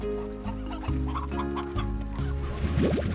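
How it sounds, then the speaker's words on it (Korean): Chickens cluck in the video game Slime Rancher: several short, close clucks rise toward the end over a steady background of game music, with no talk. "닭 닭도 좀 가져가고 닭들 컴온"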